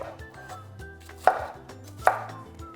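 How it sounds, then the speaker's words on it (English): A knife chops spinach on a board in a few soft, uneven strokes, with two sharper, louder cuts standing out. The sound is close and quiet, with no talking. "I'm just going to chop this up."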